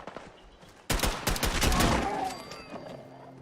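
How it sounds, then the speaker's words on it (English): A burst of rapid gunfire in Fallout 4 erupts suddenly and rattles on for about a second and a half, fairly close, then fades into lingering echoes. "You hear gunfire over there."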